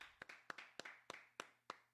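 Sharp single hand claps at a history class gathering, seven evenly spaced claps in a steady rhythm, faint and isolated with short decays.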